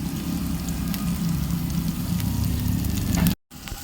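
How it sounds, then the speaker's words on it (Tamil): Onion and green chili sauté in a hot pan with a steady, close, dense sizzle that runs unbroken for over three seconds before a brief dropout, then resumes. "லைட்டாக இதை வந்து கொஞ்சம் அந்த நிறம் மாறுற அளவுக்கு வதக்கிக்கலாம்"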